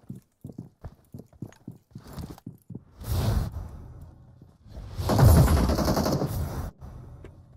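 Gunfire from an MG3 machine gun in the mobile battle-royale game PUBG Mobile: a string of sharp separate shots at first, then two dense, loud sustained bursts, with no talking.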